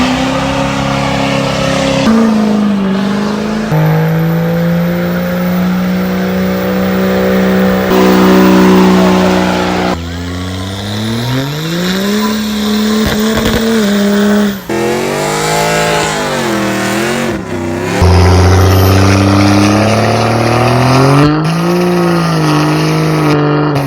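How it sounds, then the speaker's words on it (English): A lifted truck does a burnout on Main Street during a truck meet, its engine revving hard and loud with rising and falling pitch sweeps, sustained roaring throughout with no talk. "come on down and do your best burnout right on Main Street"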